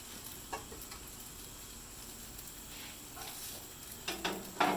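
Four eggs frying in a pan for fried rice, a steady soft sizzle running throughout, with a few louder crackles and spatters near the end and no talking.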